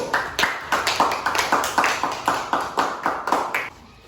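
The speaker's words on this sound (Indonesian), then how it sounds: "Tepuk tangan dulu untuk kelompok 1." A classroom claps for a student group in a rhythmic, unison beat, roughly three claps per second, loud and close, stopping suddenly near the end.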